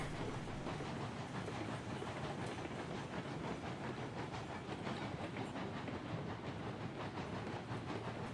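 A steam locomotive in the Railroads Online video game chuffs steadily under heavy loads at a slow pace, a dense, continuous rhythmic rumble with hiss.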